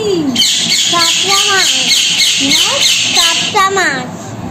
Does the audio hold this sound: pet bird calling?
yes